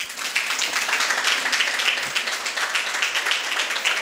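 A school audience at a special debate event held by Christuraja Matriculation Higher Secondary School applauds, with steady, lively clapping that fills the whole span at an even level.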